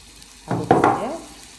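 Masala for butter chicken sizzling in a pan as it is stirred, a short close burst of frying hiss with a couple of scraping strokes, then fading quickly.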